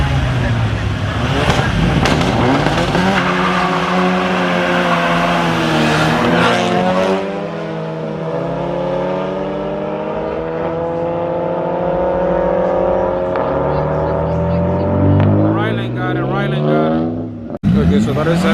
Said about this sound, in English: so that is an M3 versus the Audi